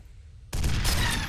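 Micro rockets bursting in midair in the shooter game F.E.A.R., a sudden loud blast after a quiet lull, followed by a dense crackling roar of explosions and debris that fades out.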